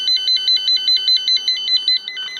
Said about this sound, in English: the fire alarm has went on